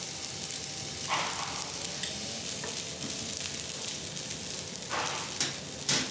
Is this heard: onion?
yes